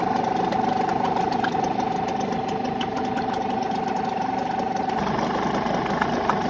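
A Parsun 5.8 hp two-stroke outboard motor with an external tank idling steadily with a fast, even putter and a faint whine, close by and continuous without talk.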